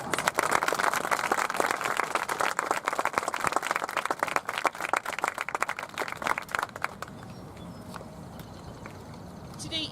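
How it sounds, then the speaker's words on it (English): Audience clapping for graduating sixth grade students, a loud burst of many hands applauding that thins out over several seconds into scattered claps and then fades to quiet room noise. "Let's give these students a round of applause."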